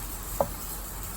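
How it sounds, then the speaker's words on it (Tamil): A handful of washed, still-damp curry leaves dropped into a hot pan give a steady soft sizzling hiss, with one brief small tap partway through. "இப்போ அதே வானலியில் கருவேப்பிலை ஒரு கைப்பிடி அளவு நிறையாவே போட்டுக்கிறேன்."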